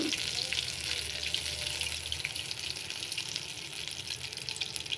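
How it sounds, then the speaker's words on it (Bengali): Mushrooms frying in a pan give a steady, dense sizzle that runs unbroken and fairly close throughout, with no voices over it. "আমাদের মাশরুম ভাজা হয়ে গিয়েছে"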